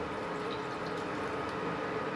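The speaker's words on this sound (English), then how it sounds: "I will add a little bit of more water to this" Water poured into a pot of alphabet pasta soup, a continuous even splashing pour heard up close and alone.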